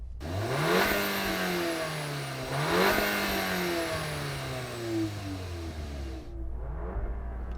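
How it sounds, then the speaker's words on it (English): Volkswagen T-Roc R four-cylinder engine revved hard twice with sharp rises and falls in pitch, then dropping back toward idle, loud and close outdoors. "Let's have a listen to that T-Roc and your 4 cylinders."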